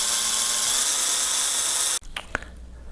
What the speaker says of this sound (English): Now I am just using a hand drill.